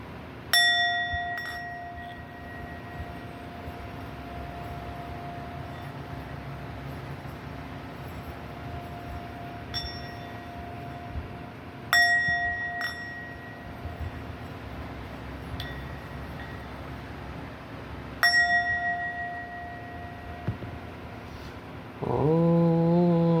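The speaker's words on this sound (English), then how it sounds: "I'll begin by ringing the bell" A Buddhist prayer bowl bell rings several times in a quiet room. Each strike is clear and ringing and fades out slowly between blows.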